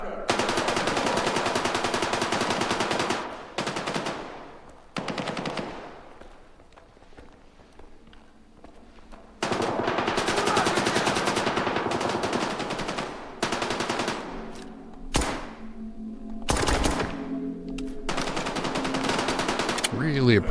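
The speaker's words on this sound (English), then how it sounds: "Really appreciating the suppressor right about now." Suppressed gunfire in STALKER 2: Heart of Chornobyl, long rapid automatic bursts separated by short gaps, with a few single shots and footsteps between them, loud and close.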